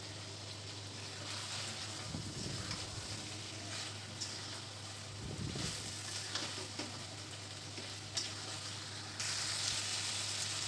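Onion cubes frying in a pan with chicken curry, a steady close sizzle with occasional scraping stirs and a brief louder burst near the end, no talking.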